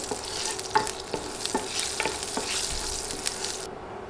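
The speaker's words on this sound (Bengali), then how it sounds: "নেড়ে কয়েক সেকেন্ড মশলাগুলো ভেজে নিব" Panch phoron five-spice seeds fry in hot oil for an okra dish, a steady close sizzle with a few sharp spatula scrapes and taps as the seeds are stirred, no voices present.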